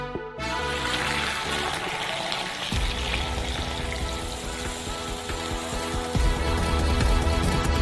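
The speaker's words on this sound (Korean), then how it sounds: "커피는 이미 끓었으므로 스토브에서 꺼내 큰 컵에 부어주세요." Hot coffee poured from a stovetop pot into a large cup, a steady close liquid stream with a splashing, gurgling texture that grows heavier partway through and continues without any speech.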